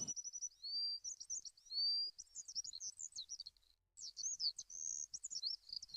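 Cartoon bird chirping and tweeting in quick bursts, high and bright, steady through most of the stretch with a brief pause near the middle, no voices present.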